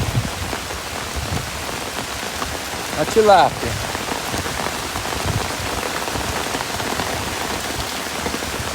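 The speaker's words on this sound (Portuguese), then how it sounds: "Rapaz, chuva de verdade, hein?" Heavy rain pours steadily onto a surface during a fishing trip, a dense constant hiss throughout, with someone speaking briefly under it and a short clatter midway.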